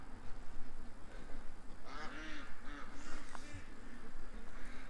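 A hurt female breeder duck quacks in a short run of calls near the middle, over steady background noise with some faint voice around it.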